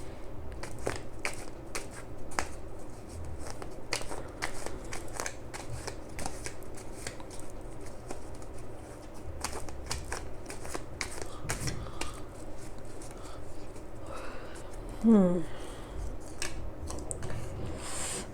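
Tarot cards are shuffled and drawn close by, with repeated crisp riffling, soft flicks and papery snaps in an irregular rhythm, plus one brief louder slap near the end.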